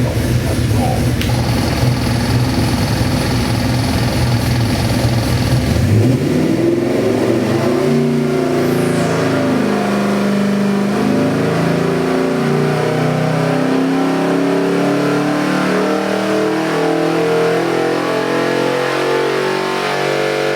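A 1965 Ford Mustang with a 347ci small-block Ford stroker crate engine runs at a loud, steady idle for the whole stretch. The rumble deepens and grows lumpy as the revs settle, with no talk over it.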